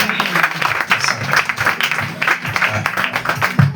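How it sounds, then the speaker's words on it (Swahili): A church congregation claps together during a worship service, a dense burst of rhythmic applause from many hands filling the room, fairly loud and close. "Mpigie Yesu makofi mazuri."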